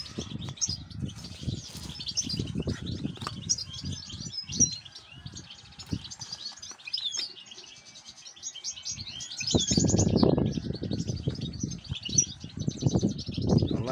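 Goldfinch and its chicks in a cage chirp and twitter continuously, a busy tangle of bright tweets over some low rustling and thumps, with a louder burst of activity near the end.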